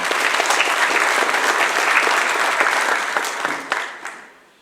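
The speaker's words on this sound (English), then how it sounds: "We can give them a hand of applause." An audience at a council inauguration gives a warm round of applause, a dense, close clatter of many hands that holds steady and then tapers off into a few scattered claps.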